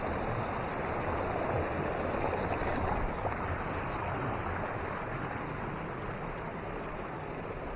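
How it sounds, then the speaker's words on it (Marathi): A river flows near a path leading up to a temple, giving a constant broadband wash of running water that stays even and fairly close throughout, with no voices. "बघा नदी."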